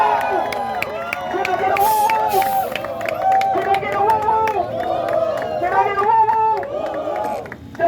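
A crowd at a mayoral endorsement event for Boston Mayor Kim Janey cheers and applauds continuously, with loud voices shouting over the clapping throughout.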